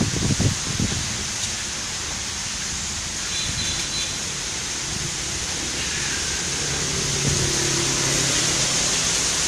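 Steady heavy rain with a broad roar of strong wind gusting over it at Manila Bay, continuous and loud throughout, no voices.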